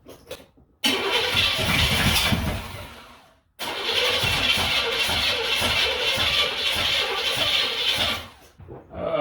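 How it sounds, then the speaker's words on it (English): Fire-damaged diesel Oldsmobile 98 engine starting for the first time, fed fuel poured into the carburetor: it cranks and catches into a loud rough run, dies out, then fires again and keeps running before fading. "All right, first start, let's go."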